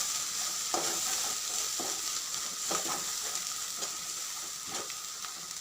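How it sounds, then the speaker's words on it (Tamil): Continuous hissing sizzle of chili powder and curry masala sautéing in a pan, punctuated by regular scraping strokes of a spatula, close and steady. "கறி மசால் அது மூணையும் சேர்த்து ஒரு ரெண்டு நிமிஷம் வதக்குறோம்"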